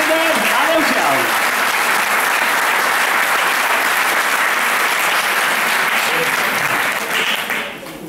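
Loud, dense applause from a summer concert audience fills the hall without pause, then fades away toward the end as a voice speaks over it.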